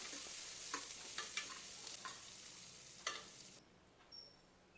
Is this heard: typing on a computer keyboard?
no